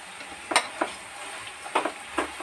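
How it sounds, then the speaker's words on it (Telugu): Ridge gourd curry with onion is stirred in a pan, giving a soft sizzle under four or five distinct scraping knocks of a spoon against the pan. "ఒకసారి కలిపేస్తాను."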